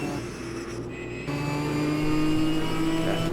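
Race car exhaust in the racing game Automobilista 2 during a GT touring race on the Adelaide street circuit, a steady whining engine note that steps up in pitch and grows louder partway through.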